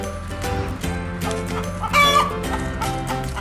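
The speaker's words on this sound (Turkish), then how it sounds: "Tavuk değil mi sesleniyorsun Ceren?" Backyard chickens clucking close by, several overlapping calls in an uneven rhythm with a louder squawk partway through, no talk over them.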